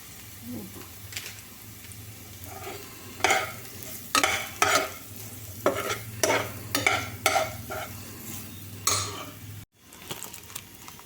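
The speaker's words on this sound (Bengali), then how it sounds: "নুন দিয়ে একটু নেড়ে দিই একটু কাশ্মীরি লঙ্কা দিলাম" Vegetables stir-fried with salt and Kashmiri chili in a pan, with a spatula scraping and clinking against the metal in repeated bursts over a low sizzle, ending in a brief pause.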